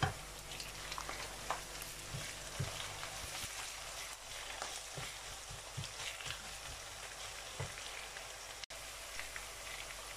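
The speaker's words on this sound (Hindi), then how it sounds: "तो प्याज को हम थोड़ा सा ब्राउन करेंगे और इसके साथ ही हम डालेंगे जी लहसुन और अदरक का पेस्ट" Onions browning in hot oil with garlic and ginger paste for a fish curry, giving a steady, close, dense crackling sizzle that runs unbroken throughout with no voices.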